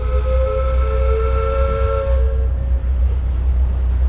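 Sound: paddle steamer hooting its horn

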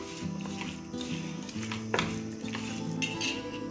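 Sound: mixing pepper, cumin and mandi masala powder

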